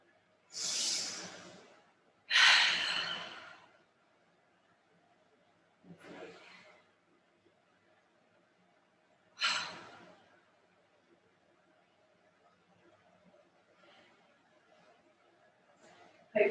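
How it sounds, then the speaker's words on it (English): Slow, deep breaths taken during a guided breathing exercise: several long exhales, each spaced a few seconds apart and loud in the first half, fading to softer breaths later, with quiet room tone in between. "See if we can slow the breath down."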